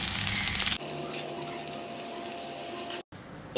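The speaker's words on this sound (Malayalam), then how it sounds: "അത് ചൂടായി വന്നപ്പോൾ അതിലേക്ക് ഞാൻ വീണ്ടും കുറച്ച് വെളിച്ചെണ്ണ വെച്ച് കൊടുക്കുന്നുണ്ട് ഇനി അതിലേക്ക് നമുക്ക് സവാള ആഡ് ചെയ്ത് കൊടുക്കാം" Onions go into hot coconut oil in a pan and fry with a steady, close sizzle and a short break near the end, with no talking.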